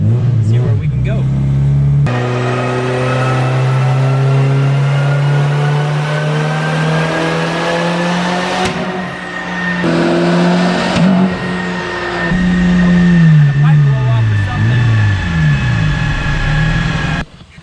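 An AWD wagon engine revs hard on a dyno base pull, a loud, sustained, rising drone that climbs through the gears with brief shift breaks and a drop at the end.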